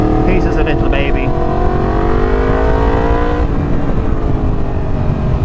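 Motorcycle engine running steadily at a loud, close idle with a rising and falling drone, heard under talking.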